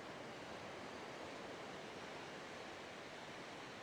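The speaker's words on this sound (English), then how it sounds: "Let's just take a few minutes to soak up the beach." Beach ambience at Nai Yang Beach, Phuket, with a continuous soft wash of surf and breeze, even and faint throughout, with no voices.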